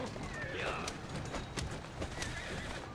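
A horse in Assassin's Creed Syndicate whinnies loudly and clip-clops at a steady gallop throughout, with someone talking over the hoofbeats.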